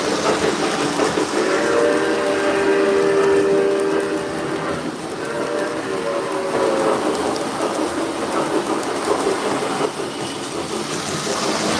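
A remote-controlled model steam locomotive sounds its whistle in two separate sustained blasts against a steady hiss of background noise, with a quieter stretch between them.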